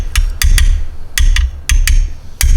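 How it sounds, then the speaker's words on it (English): Light hammer taps knock against a metal part on a turbo to loosen it, about eight sharp close strikes in small uneven clusters over a low rumble. "then hammer it"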